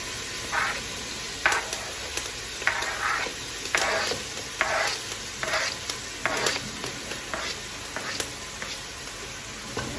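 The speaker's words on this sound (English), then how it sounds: "so the oil is hot. I'm gonna add the veggies to the pot now" Vegetables sizzle and crackle in hot oil, a steady frying hiss broken by repeated stirring scrapes at an irregular rhythm, close by with no talking.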